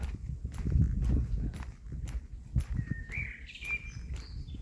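Faint bird chirps and short whistled calls come through over low rumbling and scattered clopping or footstep-like thuds outdoors.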